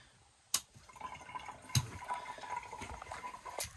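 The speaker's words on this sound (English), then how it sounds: "if I hit this gray open, we will dump our gray water tank" Gray water drains from a van's holding tank in a faint, steady trickle, broken by a couple of sharp clicks near the start and middle.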